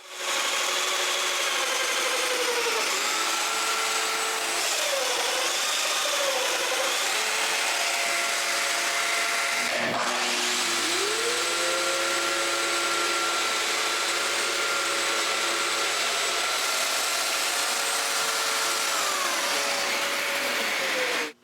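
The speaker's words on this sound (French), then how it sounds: "je peux m'occuper de marquer et de percer des mortaises" A power tool drills mortises into a wooden door frame: a loud, sustained mechanical whine that shifts in pitch as it bites, with a short break near the middle before it resumes.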